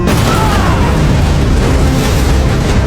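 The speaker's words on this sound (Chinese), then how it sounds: "扔出一枚手雷" A grenade thrown by a robot detonates in an animated sci-fi film, a loud, dense rumbling blast that fills the whole moment with heavy low-end roar and no speech.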